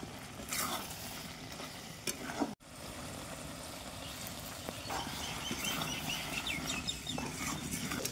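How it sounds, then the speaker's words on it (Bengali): Mutton with spices and potatoes sizzles in a wok while a spatula stirs and scrapes through it, a continuous close frying hiss with irregular scraping strokes and one sharp knock. "এখন নেড়ে চেড়ে খুব ভালোভাবে কষিয়ে নেব, কোনোভাবেই যেন কড়াইয়ের তলায় লেগে না যায়।"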